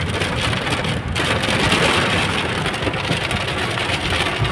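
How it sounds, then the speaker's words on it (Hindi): Steady, dense monsoon rain pours down continuously in the hills near Pushkar, India, a loud wash of drops hitting surfaces with no pauses. "बेहतरीन बारिश हो रही है यहाँ पे,"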